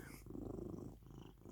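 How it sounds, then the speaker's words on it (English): A cat purrs close up in a soft, continuous rumbling rhythm, fairly faint, with no talking. "stop purring."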